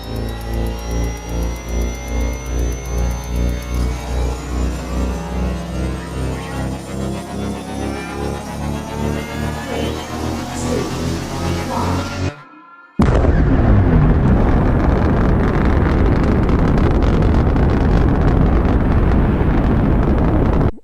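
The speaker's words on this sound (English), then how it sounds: "The engine is starting up." Small consumer drone motors starting up outdoors on a clear day, a steady layered whine with rising tonal harmonics for about twelve seconds, followed by a sudden cut to loud, broadband wind-buffeted noise.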